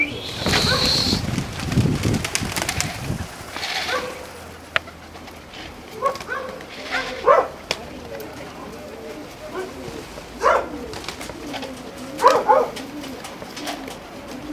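Pigeons at a pigeon festival in Serres give soft cooing calls in short bursts, with a few sharper bird notes and a possible dog bark, heard outdoors over low background noise with people talking nearby.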